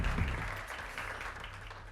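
Audience applause fills a hall at the MSIA 2024 awards ceremony during the Wexchange Forum: a steady, fairly soft wash of many hands clapping together throughout, with no distinct voices.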